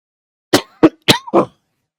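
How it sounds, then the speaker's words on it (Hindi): A man with a cold coughs four times in quick succession, sharp and close, against near silence. "तो बार बार खांसूंगा छींकूंगा"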